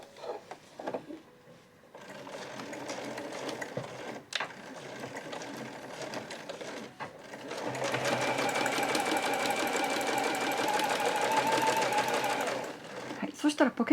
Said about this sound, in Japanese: 今度は重ねて返し縫いをしてスタートしていきます。